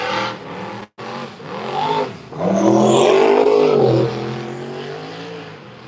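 A no-prep drag race car at the War in the Woods event struggles down the track. The engine roars loudly and rises in pitch through hard acceleration, briefly cuts out, then surges to a sustained full-throttle howl before tapering off.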